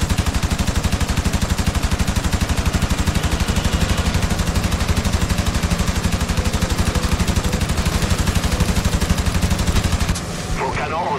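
Sustained rapid machine-gun fire from a World War II fighter aircraft in the video game IL-2 Sturmovik on Xbox 360, a loud unbroken stream of fast regular shots for about ten seconds before it stops abruptly.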